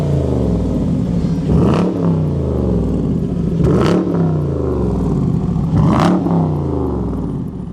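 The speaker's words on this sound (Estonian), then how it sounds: "Kuressaare kesklinna sõitsid kaunistama tõelised Ameerika muskelautod" Dodge Challenger American muscle car at a street gathering in Kuressaare town centre, engine revved three times in rising swells over a steady deep idle, loud and close with no talking.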